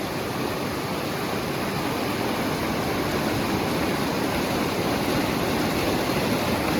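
River water rushing steadily during a cold, foot-deep crossing on a mountain hike from Mestia to Ushguli in Georgia; a loud, continuous broadband roar lasts the whole stretch with no talking.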